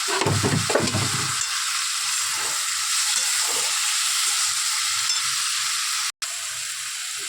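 Chili powder, salt and turmeric fry in oil for a Bombay duck fish curry, giving a steady, bright sizzle and hiss throughout, with brief stirring clatter at the start and a momentary dropout near the end.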